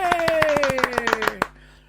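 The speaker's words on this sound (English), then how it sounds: "Round of applause." A round of applause greets a new guest on a radio show, about a dozen quick, close hand claps in a brisk run over a sustained falling voice, stopping abruptly after a second and a half.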